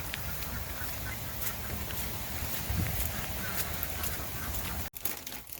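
Ducks and geese call outdoors, with quacks and honks scattered over a steady wet background, moderately distant, and a brief dropout and handling noise near the end.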